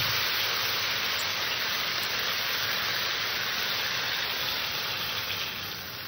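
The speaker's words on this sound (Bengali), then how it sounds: "আমার তরকারিটা কষা হয়ে গেছে, এবার আমি এখানে জল দিয়ে দেবো।" Water poured into a pan of simmering fish and ridge gourd curry with potatoes, giving a steady, loud, broad hiss and sizzle that holds without a break and eases slightly at the end, with no talking.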